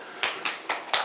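Four sharp claps in an even rhythm, close and fairly loud, from an audience at a high school youth forum in a hall, with no talking over them.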